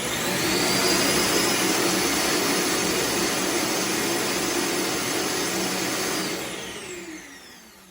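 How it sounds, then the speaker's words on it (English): An iRobot Roomba Combo j7+ self-emptying home base runs its evacuation vacuum, a loud steady roaring whine that holds for about six seconds, then winds down and fades near the end. "Once the robot is fully docked, the vacuum is going to start. So it's going to get very loud"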